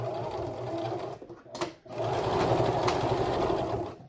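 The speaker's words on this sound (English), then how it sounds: "I'm just going to sew back and forth" A sewing machine stitches back and forth along a 1/4 inch seam, giving a steady close whirring hum that drops out for a brief pause as it reverses, then runs on again.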